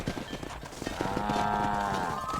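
Horse hooves clip-clop in Red Dead Redemption while cattle are driven along, with a rapid run of hoof beats, a whinnying horse and a steady background rumble, fairly quiet and close.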